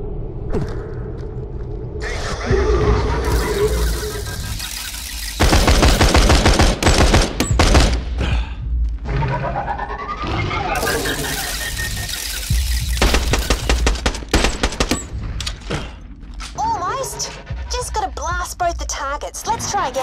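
Rapid automatic gunfire and explosive bursts from the Borderlands: The Pre-Sequel video game, loud bursts and rattling volleys mixed with rumbling game effects and squeals, with a voice talking over parts of it.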